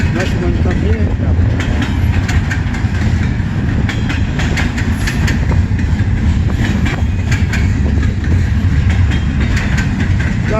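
A CN freight train passes close by, a loud continuous rumble with rhythmic clickety-clack of wheels over rail joints and steady engine drone throughout.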